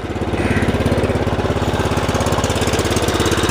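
A Craftsman R1000 riding lawn mower engine idles nearby with a fast, even putter, steady and smooth throughout, with no one speaking.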